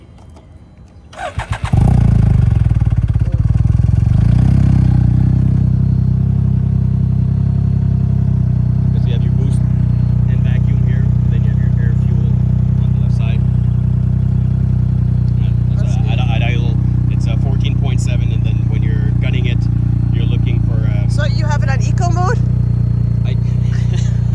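A turbocharged Can-Am Ryker engine cranks and catches with a sudden burst, then settles into a steady, deep idle close by, while a person talks over it now and then.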